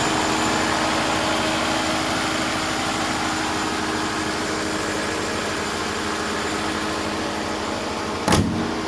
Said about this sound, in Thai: เครื่องเจ โตโยต้า VVTI